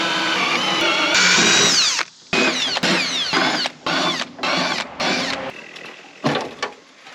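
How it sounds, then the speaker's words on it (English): A power drill bores out rivets on a Land Rover Defender seat box, whining in several loud bursts of rising pitch separated by short silences, close and harsh with metallic grinding. "So we just gotta drill some more rivets"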